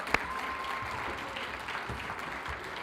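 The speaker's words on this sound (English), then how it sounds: "Let's give a round of applause for our athletes." Steady, dense applause from an audience cheering Special Olympics athletes at a law enforcement torch run event, with one sharp clap standing out near the start and the clapping holding evenly throughout.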